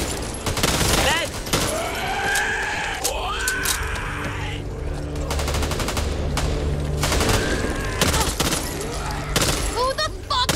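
Sustained automatic gunfire in the co-op shooter Back 4 Blood, loud and continuous bursts mixed with game effects and rising tonal sweeps throughout.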